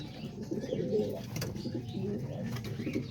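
Pigeons coo steadily at close range in a loft holding adult birds and young squabs, with low murmuring calls overlapping throughout and a brief light chirp.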